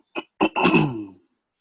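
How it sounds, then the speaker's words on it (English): A single person clears their throat up close: two short rough catches followed by a longer, voiced rasp, then silence. "It's just I had to clear my throat."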